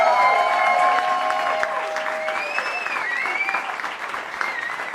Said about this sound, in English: I just want to give a round of applause for these guys up here with me